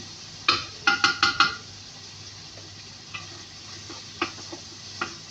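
A spoon stirs food in a cooking pan, giving a quick run of four sharp scraping clinks and then sparser, softer taps against the metal, close up with no talking.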